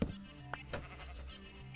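Sheep in the Minecraft video game bleat faintly, with a few short wavering calls coming in quick succession over low background sound.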